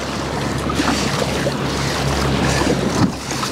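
Big ocean waves roll in at a small lagoon entrance, a loud rushing wash of surf and wind that swells toward the end with a heavier crash near three seconds.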